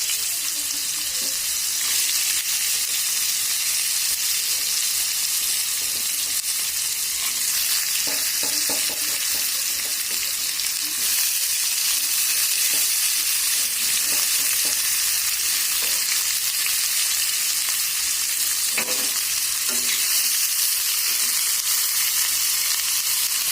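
Carrots frying in a wok-style kadai for sago khichuri give a steady, bright sizzle, with soft stirring scrapes now and then throughout.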